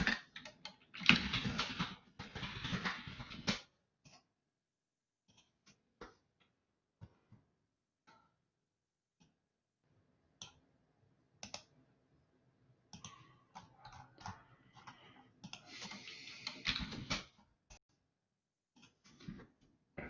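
Computer mouse clicks in quick clustered bursts, with scattered single clicks and a few keyboard-like taps between them, close up and fairly quiet with no talking.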